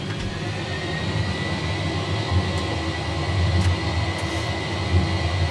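Jet airliner engines roar steadily at takeoff thrust in the X-Plane 11 flight simulator, a loud, continuous broadband rumble with a thin whine, swelling slightly as the run continues.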